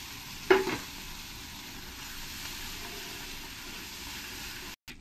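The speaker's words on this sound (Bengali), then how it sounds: "পেস্টটা দিয়ে ভালো করে আমি কষিয়ে নেব" A masala paste with Kashmiri chili powder fries and is stirred in a pan for paneer masala gravy, giving a steady hiss of sizzling oil with a sharp scrape near the start and no voices.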